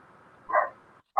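A dog gives a couple of short, muffled barks somewhere in the distance, with quiet room noise between them.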